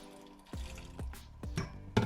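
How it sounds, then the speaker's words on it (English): Cold water dribbles into a bowl of chicken soup dumpling dough in four short, separate drips and splashes, each one close and distinct against a quiet kitchen. "So just want to add cold water, room temperature water, okay?"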